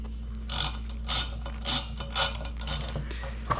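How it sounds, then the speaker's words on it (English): A ratchet wrench clicks on bolts in a workshop, with about seven quick bursts of ratcheting at an uneven rhythm, close and fairly loud over a low steady hum. "I feel like this is not ratcheting very well."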